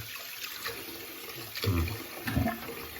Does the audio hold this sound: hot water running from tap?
yes